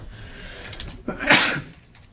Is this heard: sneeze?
yes